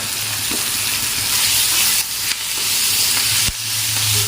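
Drumstick leaves dry-roasting in a pan give off a steady, loud sizzle and hiss, broken by a few quick stirring scrapes.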